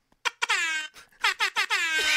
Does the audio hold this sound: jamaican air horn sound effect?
yes